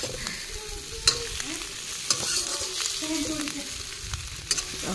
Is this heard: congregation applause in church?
no